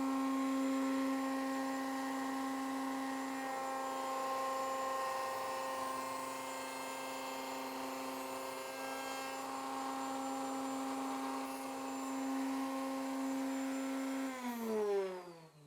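A router spins steadily while its bit cuts a notch in a workpiece held in a Kreg jig, a sustained high whine with a bright tone that winds down near the end as the motor stops.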